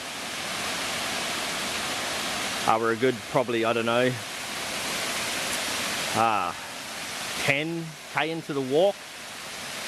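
A waterfall in Lamington National Park gives a steady, enveloping roar of rushing water throughout, while someone talks over it in short phrases.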